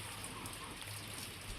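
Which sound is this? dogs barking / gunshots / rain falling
rain falling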